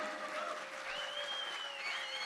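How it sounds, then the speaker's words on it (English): Steady applause from a reunion music-show audience honoring the musicians, dense continuous clapping with a few faint whistle-like tones over it, sustained for a couple of seconds. "let's give a big round of applause to all the musicians"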